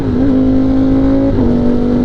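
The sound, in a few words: motorcycle engine revving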